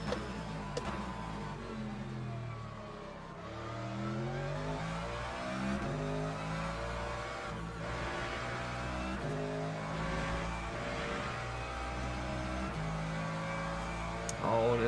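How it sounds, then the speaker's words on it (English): A hypercar closing in during a Le Mans Ultimate race, with a droning racing engine whose pitch shifts and climbs under a steady layer of car noise, fairly quiet and continuous throughout. "there's a hypercar coming"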